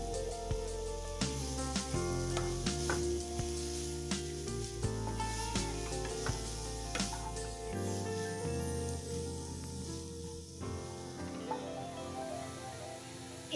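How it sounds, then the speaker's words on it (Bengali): Vegetable momo filling stirred in a pan with a ladle, giving a faint, steady sizzle with soft scraping and rubbing strokes under quiet background music. "দিয়ে একবার হাতাটা চালিয়ে নেব।"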